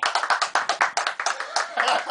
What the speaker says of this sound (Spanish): Que se escuche el aplauso.